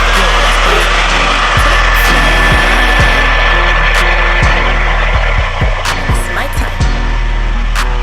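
A hair dryer fitted with a diffuser blows steadily and loudly while drying a curly wig, a constant close roar with intermittent clicks and handling noises throughout.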